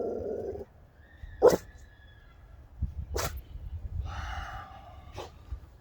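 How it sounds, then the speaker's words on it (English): A loose dog running free outdoors gives a few sharp, isolated barks with snorting breaths and brief whimpering sounds between them, moderately near against a low rumbling background. "Had to interrupt the video because somebody's dog is running loose."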